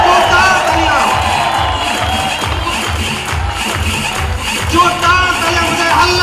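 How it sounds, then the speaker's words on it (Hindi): A large audience at a corporate recognition event applauds and cheers continuously, a dense roar of clapping and voices with a steady rhythmic beat underneath. "जोरदार तालियां, मुझे हल्ला बोलते जोरदार।"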